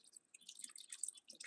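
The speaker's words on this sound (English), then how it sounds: "I'm just going to add some water." Water is poured from a container onto a potted plant outdoors on a porch, a soft, faint trickle and patter of splashes and drips that comes in irregular bursts.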